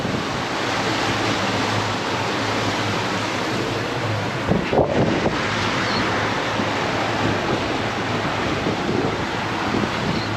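Steady wind roars across the microphone on a performance center console boat in a tight channel, with rushing water beneath, a continuous broadband noise with a brief buffeting gust midway.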